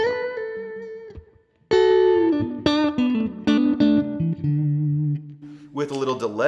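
A Stratocaster electric guitar played through a compressor with reverb, with clean sustained notes and chords that ring and decay into a reverb tail, separated by a brief pause.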